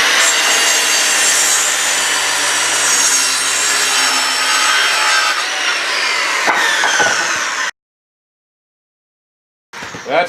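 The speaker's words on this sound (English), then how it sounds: "I'm going to cut some of these up into approximately 1 foot chunks" Wooden porch boards being sawn into roughly one-foot chunks: a loud, close, continuous rasping cut lasting several seconds, then some knocks and a short silence before handling noise returns.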